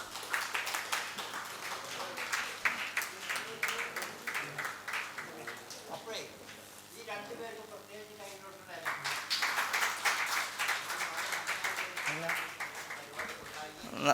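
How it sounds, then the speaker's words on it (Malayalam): A hall audience at an IMA Perinthalmanna Doctors Day celebration in 2024 gives a standing ovation, with dense sustained clapping that briefly thins while a voice speaks midway, then swells again toward the end. "നമുക്ക് സബി മാഡത്തിന് എഴുന്നേറ്റ് നിന്നൊരു കയ്യടി കൊടുക്കാം"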